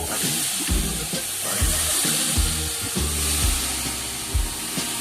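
Upma frying in a pan, a steady sizzle and hiss carrying throughout with a few stirring scrapes, close and moderately loud, with no talk.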